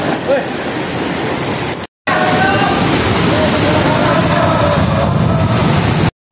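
A loud, steady roar of the Kolung waterfall fills the scene, briefly cutting out near the start before resuming just as strong.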